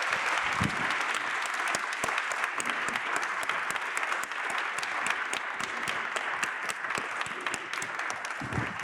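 Steady audience applause fills the room after a pavilion conversation event, dense even clapping from a large crowd lasting the whole stretch at moderate volume, with no talk over it.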